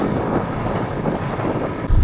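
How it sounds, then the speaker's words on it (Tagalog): Strong wind buffets the microphone during a long bicycle ride on a coastal road in Bicol, a constant loud low roar and rumble with gusty fluctuations and no talking. "Tapos mahangin."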